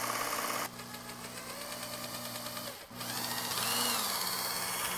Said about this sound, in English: all it's doing is cleaning that burr and polishing the edge